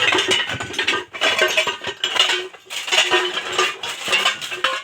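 Aluminium spoons and cookware clink and clatter together continuously, with busy rattling bursts and brief pauses, close by.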